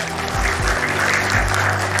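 Crowd at a speech gathering applauds, a dense, steady wash of clapping heard together with low rumbling noise throughout the short stretch.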